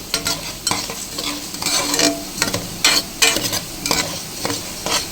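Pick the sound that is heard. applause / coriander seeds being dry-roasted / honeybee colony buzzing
coriander seeds being dry-roasted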